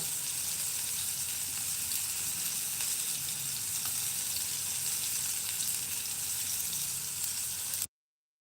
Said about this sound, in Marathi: नंतर जे शेवटचे छोटे छोटे पीसेस उरले होते ते सुद्धा मी फ्राय करून घेते